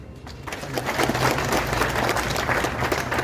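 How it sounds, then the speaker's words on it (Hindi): Loud, dense applause from an audience at a Dalit community gathering about LIC officers, a sustained wash of many hands clapping throughout with no speech over it. "जोरदार तालियां।"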